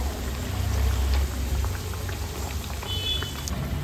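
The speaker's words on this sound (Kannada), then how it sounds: "ಈ ರೀತಿಯಲ್ಲಿ ಹೊಂಬಣ್ಣ ಬರುವ ಹಾಗೆ ಫ್ರೈ ಮಾಡಿಕೊಂಡು ಪಾಕಕ್ಕೆ ಸೇರಿಸ್ಕೊಳ್ಳೋಣ" Badam puri sweets deep-frying in oil until golden, a steady bubbling hiss with faint scattered pops, close and continuous with no talk.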